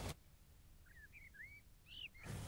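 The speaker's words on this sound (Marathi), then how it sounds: "कोकिळा गात होती." A cuckoo sings outdoors in a short run of four or five brief rising whistled calls, fairly faint and distant over a low background hum, with no voices.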